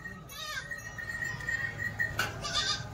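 Goats of the Kathewadi breed at a livestock sale give wavering bleats, one drawn-out call and a brief later cry, over a low rumbling background with voices around.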